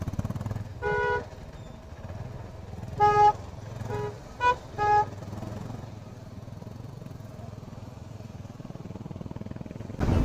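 Road traffic on a Maharashtra coastal route rumbles with idling motorcycle and car engines, punctuated by several short car horn honks, a few in quick succession near the middle, all fairly close.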